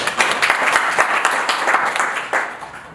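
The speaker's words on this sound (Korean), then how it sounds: "박수로 부탁드리겠습니다" An audience applauds a speaker introduced at a talk on AI and humanoid robots: full, dense clapping from a large hall crowd, loud and sustained, easing slightly toward the end.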